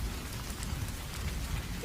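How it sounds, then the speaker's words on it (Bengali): Heavy rain pours down on a tin shop roof in a sudden downpour, a dense, unbroken roar of drumming and hiss that holds steady and fairly loud throughout. "মুহূর্তেই টিনের ছাউনিতে ঝমঝম করে বৃষ্টি পড়তে শুরু করলো একেবারে মুষলধারে"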